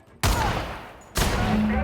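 Gunfire in the video game Outer Worlds: two loud, close bursts of rapid shots, the second starting after a short dip.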